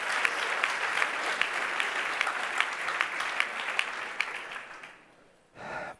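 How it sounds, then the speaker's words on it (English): Sustained audience applause at a climate conference plenary panel, dense steady clapping from a crowd that fades out after about five seconds, followed by a brief muffled noise. "Let's give a round of applause for them getting through the lightning round."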